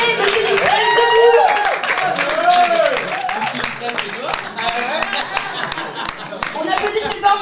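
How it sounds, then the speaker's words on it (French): A cabaret audience claps and cheers loudly and continuously, with voices calling out over the applause throughout. "On applaudit très fort"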